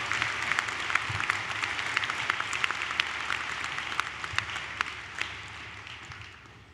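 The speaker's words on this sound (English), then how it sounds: "Let's give a warm round of applause to celebrate and congratulate these outstanding students." A graduation crowd at a high school ceremony gives a warm round of applause for honored students, a sustained dense clatter of many hands with sharp individual claps standing out, tapering toward the end.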